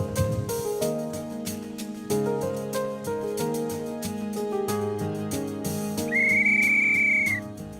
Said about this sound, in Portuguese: Seu João toca o apito dos escoteiros